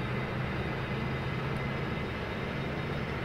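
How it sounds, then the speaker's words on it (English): Dash 8 Q400 turboprop engines run at maximum power in the Majestic Q400 add-on for FSX, a loud, continuous roar with a low droning hum that holds steady throughout, alone with no talk. "Now we got that classic Dash 8 sound."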